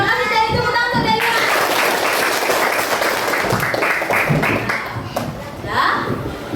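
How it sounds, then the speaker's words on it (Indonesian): Children in a classroom clap for Delia, a dense burst of applause that fades after a few seconds, with young voices chattering beneath and a teacher's voice near the end. "terima kasih dari tepuk tangan untuk Delia"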